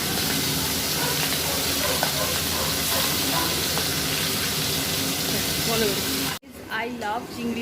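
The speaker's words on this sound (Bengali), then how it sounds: "তো এবার চিংড়ি মাছগুলোকে ভেজে নেবো" Prawns frying in hot oil in a kadai make a loud, continuous close-up sizzle with steady hissing that runs for several seconds before cutting off abruptly near the end.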